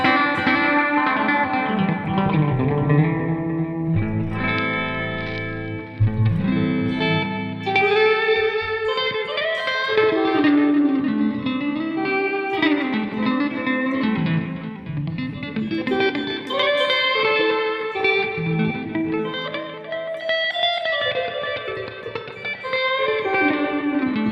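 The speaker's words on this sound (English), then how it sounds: "That's the Yonex Zodiac Echo. Fantastic tape delay." Electric guitar playing bluesy phrases through a Yonex Zodiac Echo tape delay after a Tonex hardware pedal, notes trailing into repeating echoes with a washy, distorted tone, loud and continuous throughout with no voices.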